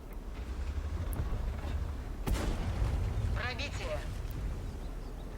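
Tank gun rounds from an IS-5 striking the turret in World of Tanks, heavy booming impacts with rumbling low end, one sharp hit standing out midway, under talk and game noise.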